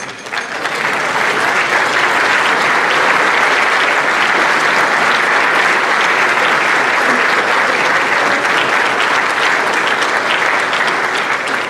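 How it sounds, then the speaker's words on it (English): An audience at the 2023 National Softball Hall of Fame induction ceremony gives sustained, loud applause for the rising Hall of Fame members, a steady wash of clapping from many hands with a faint crowd murmur. "a round of applause for the current members of the National Softball Hall of Fame"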